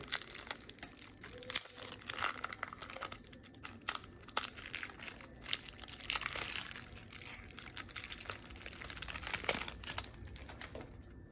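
Plastic wrapping crinkles and tears as a Yu-Gi-Oh Dinosmashers Fury structure deck is opened up close, a steady run of crackles and sharp snaps with no talking.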